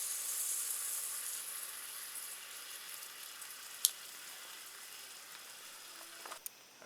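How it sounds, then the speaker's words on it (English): Chef Boyardee heating in a warm pan at a lakeside island campsite gives a steady, soft, faint sizzle. A brief sharp click cuts in partway through, and small clatters come near the end. "It's starting to sizzle and bubble."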